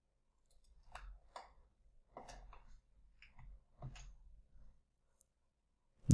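Computer keyboard typing and mouse clicking, a scattered run of soft taps and clicks in small bursts, close and quiet, with a sharper click at the very end.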